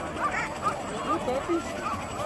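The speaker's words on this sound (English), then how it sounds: "That's the dogs." Sled dogs at a camp near Mendenhall Glacier bark and yip in short, scattered bursts at a moderate distance, heard beneath ongoing conversation.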